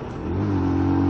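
A small, underpowered engine strains as it revs in fourth gear on a long ride, the pitch climbing gradually and growing louder, close and continuous with no voices.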